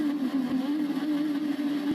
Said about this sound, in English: now let's build up the revs